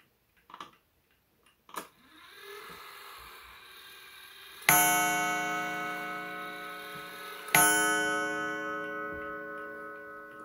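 After a few faint mechanical clicks, a Seth Thomas Beehive mantel clock strikes two slow, resonant chimes about three seconds apart, each ringing loudly up close and decaying gradually.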